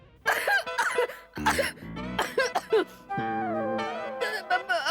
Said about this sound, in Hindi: खांसी आ गई जरा